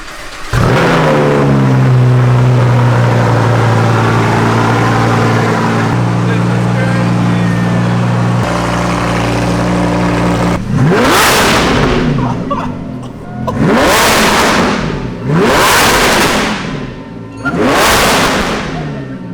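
A powerful supercharged Lamborghini engine drones loudly, then revs hard several times in sharp rising bursts, close by, with voices underneath.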